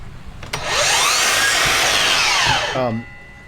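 A power saw with a DeWalt blade cuts through wooden window casing, a loud close whining rip lasting about two seconds, then the motor winds down after the cut.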